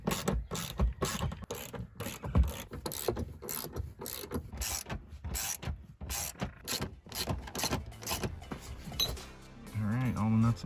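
A ratchet cranks loose the seat bolts inside a vehicle, its quick clicking strokes coming in close, repeated bursts, with a person talking over parts of the work.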